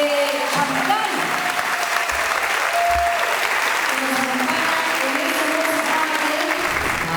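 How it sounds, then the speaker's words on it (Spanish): A large audience gives a symphony orchestra sustained applause, a dense, steady wash of clapping at a music event, with faint voices mixed beneath. "Un fuerte aplauso para la Orquesta Sinfónica de Champán."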